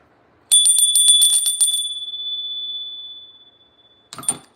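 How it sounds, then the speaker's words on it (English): A small bicycle bell rings in a rapid burst of repeated dings, then its tone fades slowly over about two seconds, followed by a brief rattling clatter at the end. "One more bell, you guys. Headphone warning."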